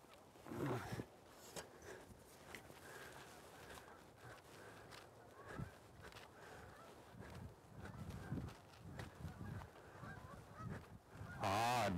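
Several geese honk repeatedly at a moderate distance over steady outdoor background noise, with soft footstep-like rustling in between.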